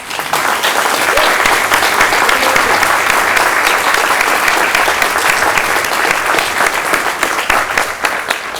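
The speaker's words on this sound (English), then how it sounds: "Would the following student please stand and receive applause in honor of your lifetime achievement?" Steady, dense applause from a commencement ceremony audience honoring a graduating student, a loud continuous wash of many hands clapping that holds evenly throughout.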